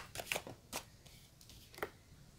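Tarot cards being shuffled by hand, a few short papery riffles and slaps spaced apart, close and soft, with no talk.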